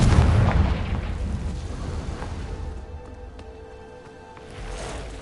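Confringo explosive spell blasting in Hogwarts Legacy, a loud close boom at the start that rumbles and fades over several seconds before a fresh low swell near the end.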